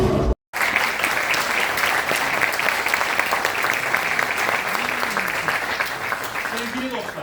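An audience at a village amateur theatre play in Bademler, Urla, applauds in sustained, dense clapping that fills the room after a brief silent gap at the start.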